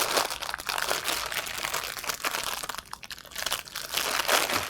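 Soft, slightly sticky maple-glazed Kind bars are broken up by hand inside a plastic bag, giving dense, continuous crinkling and crunching close to the microphone, with no talk.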